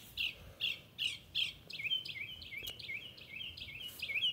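Birds chirp in quick, bright bursts, four distinct calls followed by a denser run of twittering, fairly close and with no talking.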